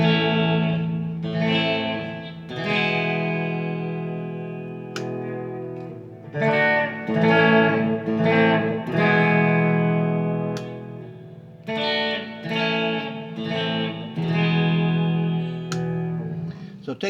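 Electric guitar with its bridge humbucker split to single-coil through a Fralin resistor, played alone as a string of strummed chords and picked phrases with a slightly sharper, effected tone.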